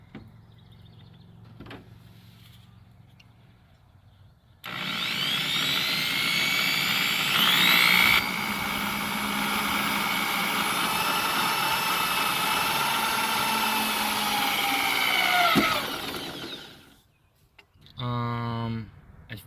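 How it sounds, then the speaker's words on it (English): A handheld power drill bores center-punched holes while mounting a Holley fuel pressure regulator, a loud steady high whine running about eleven seconds after faint shop noise, then cutting off, with a voice briefly audible at the end. "I'm going to take this friggin' drill"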